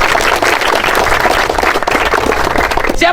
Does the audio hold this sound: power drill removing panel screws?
no